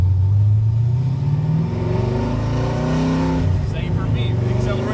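Carbureted car engine revving and accelerating under throttle after lifting off and shifting into second gear, with a faint hesitation; loud, close and continuous, with a voice talking over it.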